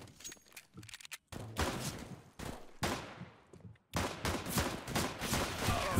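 Rapid gunfire from a CS:GO match at long range, with bursts of automatic shots cracking loudly in quick clusters and brief gaps of silence between volleys.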